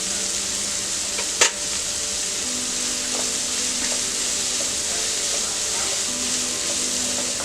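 Chopped onion being sautéed in a pan for a Marathi pumpkin vegetable dish, giving a steady, even sizzle throughout with one brief clack of a utensil.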